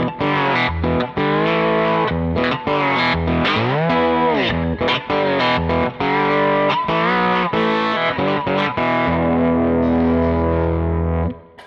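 Dirty slide guitar through a Kemper Profiler with the bridge humbucker, distorted and chorus-tinged, sliding notes swooping up and down in a loud continuous phrase with no talk.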